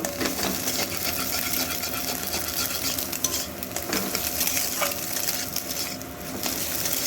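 Beaten egg bhujia fries in oil in a pan, a loud, dense, continuous sizzle with a few faint utensil clicks and no talk.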